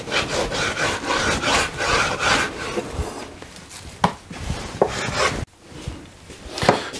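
A knife saws back and forth through a large slab of pork belly, cutting it in two, with close, steady rasping strokes that slow and break into separate scrapes toward the end.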